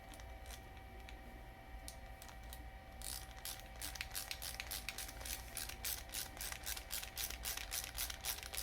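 A hand ratchet with a 7mm socket turns bolts on the carburetor of a Craftsman 163cc power washer, giving a quick run of close, crisp metallic clicks after a quieter opening, with a low steady hum beneath.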